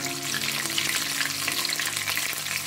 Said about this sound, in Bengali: এটা আস্তে আস্তে আমি ভেজে তুলবো, যেন ভিতরে কাঁচা না থাকে